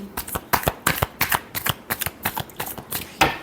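Tarot cards are shuffled by hand in a quick run of crisp riffles and slaps, about a dozen close, distinct bursts in uneven rhythm with no talking.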